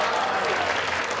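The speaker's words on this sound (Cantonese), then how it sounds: "俾多啲掌聲" An audience applauds a prize-draw guest, a doctor who chairs a housing-estate residents' cooperative; short, dense, continuous clapping from a crowd.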